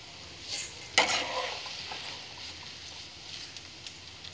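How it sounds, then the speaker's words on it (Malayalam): Beaten rice (poha) fries and is stirred in butter, giving a soft, steady sizzle with a sharper scrape of stirring near the start, then a low crackle that fades toward the end. "ബാക്കിയുള്ളതെല്ലാം അതേപോലെ പൊരിച്ചെടുക്കാം."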